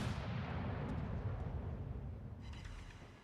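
Battleship main guns boom in World of Warships: Legends, a heavy, dense rumbling salvo that fills the whole stretch and eases slightly toward the end, with no talking.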